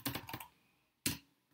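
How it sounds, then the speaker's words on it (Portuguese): Typing on a computer keyboard while entering a login on a computer, a short cluster of close key clicks, a pause, then a single louder keystroke, with no talking. "Deixa eu digitar aqui admin"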